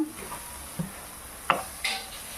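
A spatula stirs and scoops a cooked chhatu dish out of a wok on a switched-off gas stove, making a few soft, scattered scrapes and light metallic clinks over a faint residual sizzle.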